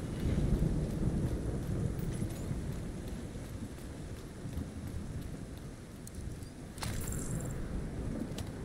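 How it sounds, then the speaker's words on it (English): Steady heavy rainfall with rumbling thunder during a thunderstorm in The Division 2, a dense continuous wash of rain with a brief sharper crack near the end, no voices. "Oh, storm's dying down too."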